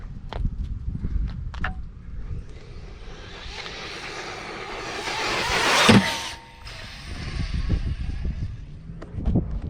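An Arrma Typhon 6S RC car speeds toward a ramp and launches, its electric motor whining up to a loud peak and then cutting out, with crunches and thuds around it on a bash run.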